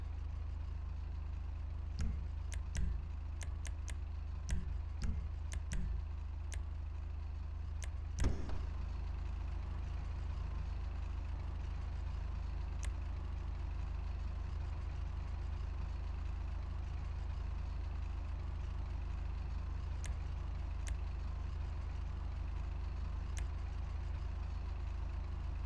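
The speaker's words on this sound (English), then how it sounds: "Now that's an engine." A fully upgraded Willard Faction lowrider's engine in Grand Theft Auto V idles with a deep, steady rumble, with a few sharp clicks and knocks early on and no talking.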